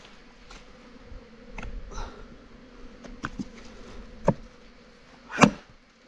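Wild bees buzzing around a forest hive as it is being taken out, a soft steady hum with occasional knocks and a couple of sharper taps close by, no talking.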